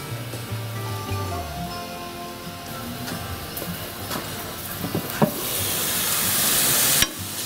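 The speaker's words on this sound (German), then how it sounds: "Mal wieder umrühren dabei" Morels simmering and being stirred in a pan on a gas grill, a constant close sizzle with scraping and clinking of the utensil and a brief knock near the end.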